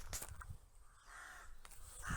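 Crows caw in a community park garden with feeders and birdhouses, giving a few harsh calls at the start and again near the end, fairly close, with no talking.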